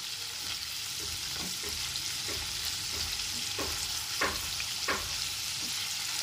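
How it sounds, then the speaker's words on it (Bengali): A second batch of paneer cubes fries lightly in oil with a soft, even sizzle. A utensil stirs them in a string of brief scrapes and taps. "এবার দ্বিতীয় ব্যাচের পনিরগুলো খুব হালকা করে ভেজে নিতে হবে।"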